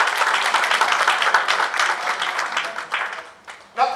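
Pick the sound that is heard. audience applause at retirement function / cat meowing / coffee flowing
audience applause at retirement function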